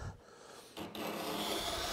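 A card scraper is drawn across a wooden cove to clean it before sanding, giving a steady close rasping scrape that continues for about two seconds after a brief pause.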